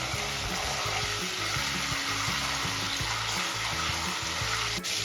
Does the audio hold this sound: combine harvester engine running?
no